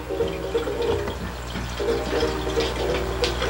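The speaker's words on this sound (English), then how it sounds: "this is how you put water in the Bearcat." Water is poured into the radiator of a 1914 Stutz Bearcat, a steady splashing, filling flow heard up close and alone with no talk.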